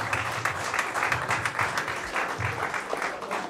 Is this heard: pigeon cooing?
no